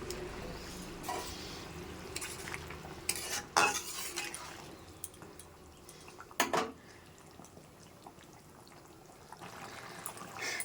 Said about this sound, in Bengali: এবার আমি দিয়ে দেব আলুগুলো